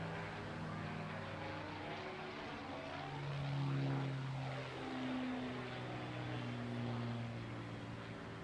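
A Spitfire propeller aircraft, painted in desert camouflage, flies overhead at an air festival. Its engine drones steadily and swells as it passes, with a faint voice underneath.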